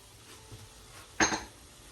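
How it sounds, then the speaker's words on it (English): Carrots for a Jamaican escovitch sauce hit the pan with a single brief clatter and rattle, a short burst of clinking against the cookware over a quiet kitchen background. "Now I'm going to add my carrots."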